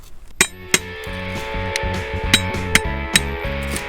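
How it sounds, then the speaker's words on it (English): Sharp metallic clinks ring out roughly eight times in an irregular rhythm as iron-coated rock is broken apart during gold nugget metal detecting, each strike close and distinct over a low steady tone. "I'm breaking rock at this point"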